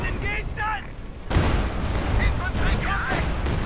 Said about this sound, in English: Artillery continuing up here in the field, artillery just basically blasting away continually